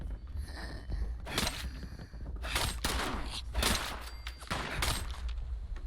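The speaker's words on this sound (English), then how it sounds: "Why are you shooting me, man?" Gunfire in Fallout 76, several distinct loud shots and short bursts spaced irregularly over a low rumbling game background.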